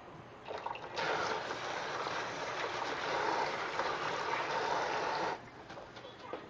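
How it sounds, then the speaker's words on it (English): Tap water runs steadily for a few seconds while hands are rinsed during outdoor pizza prep at a barbecue pit, a broad continuous splash that starts abruptly and cuts off near the end, with no talking. "let me rinse my hands real quick"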